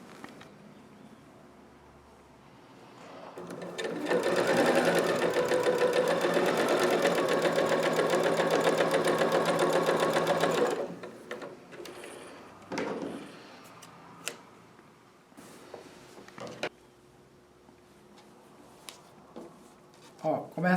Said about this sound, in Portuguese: Agora eu vou na máquina e costuro daqui até o final.